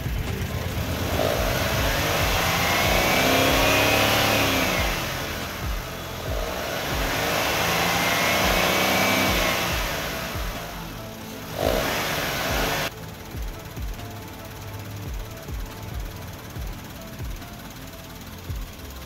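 A car engine revs repeatedly to purge air from the radiator during a coolant change, swelling loud and droning in long surges before settling to a lower, rougher running sound.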